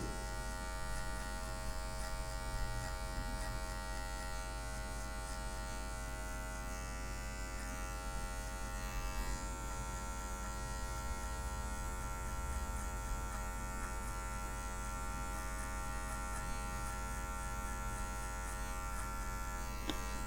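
An electric hair clipper, tip only, trims the marking line of a fade haircut, giving a steady close buzzing hum that runs unbroken and fairly loud throughout with no talking.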